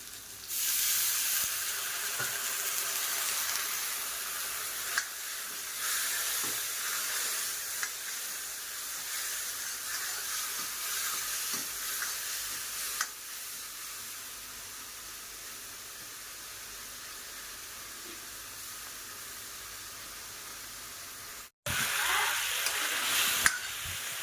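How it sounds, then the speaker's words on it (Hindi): Masala of spices and coriander powder sizzles steadily while being stirred and roasted in a pan, with scraping stir noises, a brief break near the end before the frying hiss resumes. "ऐसा भून लूँ मसाले को, थोड़ा सा उसमें पानी भी डाल दूँगी"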